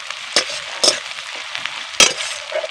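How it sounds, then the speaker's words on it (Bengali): Onion sizzles and fries in hot oil with salt, a steady crackling hiss broken by three sharp stirring scrapes, close and fairly loud, with no talking. "এবার আমি পেঁয়াজটা নরম করে ভেজে নেব"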